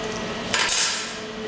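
A metal baking tray holding a seared venison saddle clanks as it goes into the oven, one short, bright metallic clatter over quiet kitchen background.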